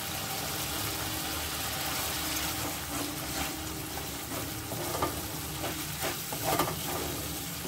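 Boiled potatoes fry in a pan for a peas and paneer curry, a steady loud sizzle with repeated scraping stir strokes throughout, no talking.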